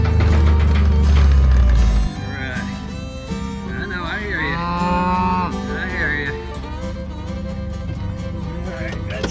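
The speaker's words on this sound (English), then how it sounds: "Now let's go move the cattle." Cattle low and moo repeatedly, drawn-out bellows over an engine-like rumble that fades after the opening seconds.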